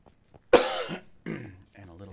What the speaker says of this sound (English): a little cough to try and clear our throat